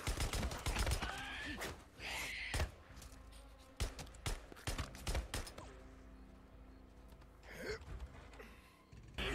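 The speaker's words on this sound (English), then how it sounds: "When you are firing shots at a horde, you're going to attract more zombies in the area." Gunfire in the zombie video game Days Gone, with sharp, loud shots fired in rapid irregular bursts and pauses between them, alongside grunting and gasping vocal sounds.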